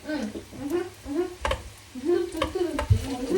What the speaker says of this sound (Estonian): Laura, see on mingis mõttes hea, et sa panid nii palju õli, sest see põhiliselt on nagu fritüüris praegu